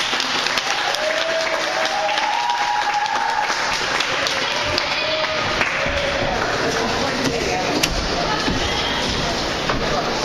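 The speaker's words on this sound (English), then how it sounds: "Let's give a round of applause." An audience at a talk or meeting breaks into steady applause that holds for about ten seconds, many hands clapping together with murmured voices underneath.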